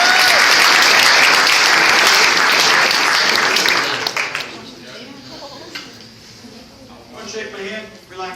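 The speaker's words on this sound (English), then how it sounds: "Give her a nice round." Loud audience applause at a hypnotist's stage show fills the first four seconds, then fades to scattered claps and quieter room noise with some voices.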